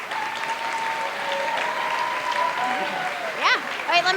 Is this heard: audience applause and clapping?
yes